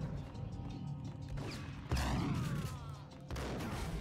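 A shotgun blast in the video game Max Payne, a sharp heavy report near the middle followed by another loud hit, over a low game ambience.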